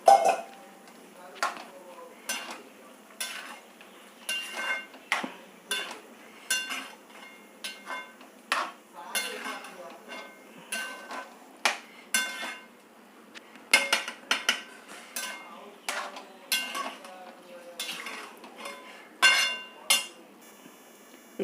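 Cooked red rice tipped into a pot for sambar rice and stirred in, with a ladle clanking and scraping against metal in irregular sharp knocks over a quiet background.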